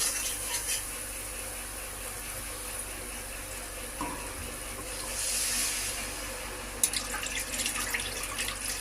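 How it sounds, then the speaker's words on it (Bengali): Water is poured into fried spices in a pan while making a Bhola fish curry, a steady splashing pour with a soft sizzle underneath and no voices. "এখন আমি এর মধ্যে জল দিয়ে দেব"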